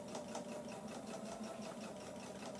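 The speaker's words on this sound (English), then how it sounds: "that's a stitch that is stitched through the bias tape and the seam allowance of the pocket" A sewing machine stitches through bias tape and a pocket seam allowance on pants, a quiet, rapid, even mechanical whir with regular ticking pulses, heard alone.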